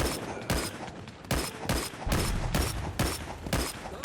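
Rapid gunfire from scoped weapons in the VR shooter Plastic Battlegrounds VR, loud close bursts of repeated shots in an uneven rhythm filling the whole stretch, with no voice over them.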